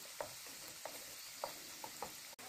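Motichoor boondi frying lightly in oil, a faint, even hiss with a few soft spoon taps spaced through it, quiet and close.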